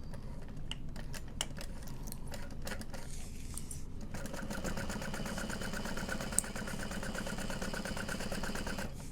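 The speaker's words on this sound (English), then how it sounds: "Sewing at the 3/8 inch line." A sewing machine stitches a handbag along a 3/8 inch seam line, starting with a few separate needle strokes and then settling into a fast, steady mechanical rattle up close.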